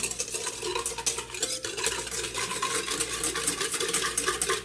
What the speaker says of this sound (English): I'm just going to stir that around there